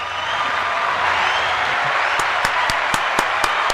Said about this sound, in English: Let me give a round of applause to